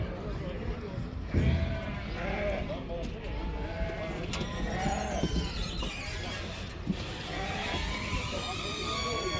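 Sheep bleat repeatedly at a livestock market in Kyzylorda, Kazakhstan, the calls near and overlapping amid crowd noise, with people talking over them.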